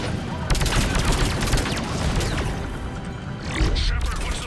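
Gunfire in the Mass Effect 3 video game, dense rapid shots blending into a continuous loud barrage with crashes and booms on top, the whole stretch busy and near, with no clear talking.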